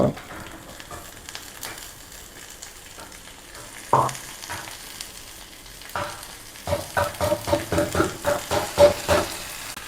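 Fenugreek leaves frying in oil in a large cooking pot, a soft sizzle under repeated scraping stirs that grow into a quick rhythmic series of strokes near the end.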